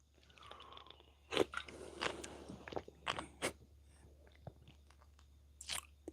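Close, crunchy chewing of shawarma in bursts, with sharp bites and wet mastication sounds separated by short pauses, no talking.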